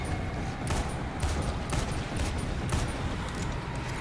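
Revolver gunshots in the video game Dying Light The Following, a rapid series of about eight sharp shots fired at a steady pace over a dense noisy game background.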